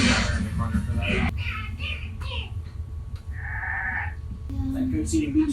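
A cartoon goat bleats in Gravity Falls, a short wavering cry mixed in among other sound effects and speech from the show's characters.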